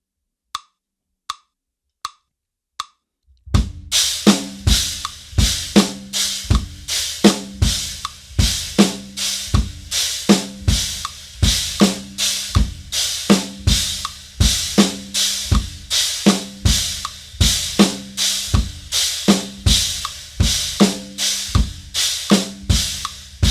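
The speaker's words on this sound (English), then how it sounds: "we're gonna keep it on the stack, and we're just gonna play the ands" Four sharp stick clicks count in, then a tight, evenly paced drum groove with accents on the offbeats on a stacked cymbal, crisp, close and unaccompanied.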